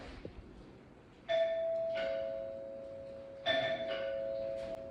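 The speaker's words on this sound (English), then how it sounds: "The old school doorbell. I love the old school doorbell." An old-fashioned home doorbell, repaired with a rubber band, rings twice in a house, each press giving a sustained bright metallic ding-dong tone close to the microphone with a brief pause between rings.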